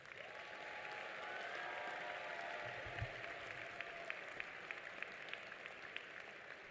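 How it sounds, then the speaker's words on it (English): Audience at a university commencement ceremony applauding graduates, a sustained, fairly faint wash of clapping across a large hall, with a brief low thump partway through. "Will everyone now please join me in applauding these outstanding graduates?"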